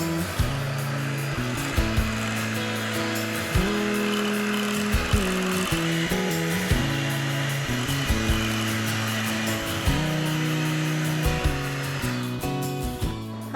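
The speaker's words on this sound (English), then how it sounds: "using the hand mixer, I'm gonna go ahead now and beat the cream cheese into the pudding mixture" A handheld electric mixer whirs steadily as it beats cream cheese into a pudding mixture for a refrigerated cream puff cake, its motor drone continuous and close with small clicks and bumps as the beaters knock the bowl.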